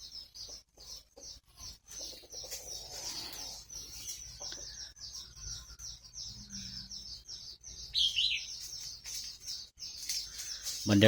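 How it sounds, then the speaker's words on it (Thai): Rapid, repeated high chirps from birds nearby, a constant twittering stream with a few louder calls and faint low rumbling underneath. "มีเสียงนก"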